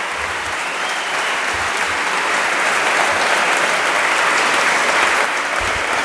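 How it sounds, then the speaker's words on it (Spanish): Dense, sustained applause from a large crowd at a political rally in Teruel fills the air evenly, loud and continuous from start to finish. "Eso sí que es un aplauso."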